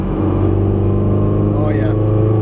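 A Mazdaspeed 3 turbo engine with a smoking turbo revs under throttle, a loud steady droning hum that rises slightly in pitch, with a voice speaking over it.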